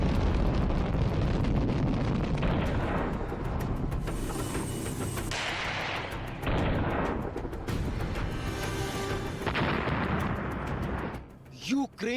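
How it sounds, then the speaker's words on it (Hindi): Russian missile strikes hitting Ukraine, heard as loud, sustained rumbling explosions and booming blasts that surge and fade in waves, with voices faintly mixed into the noise. "यूक्रेन की जमीन पर रूस के मिसाइल कहर बनकर टूट रहे हैं।"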